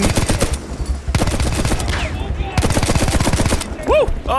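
Machine gun fire in the Battlefield 1 video game comes in rapid, loud bursts with short pauses between them, while a voice talks over the shooting.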